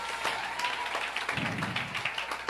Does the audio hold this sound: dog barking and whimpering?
no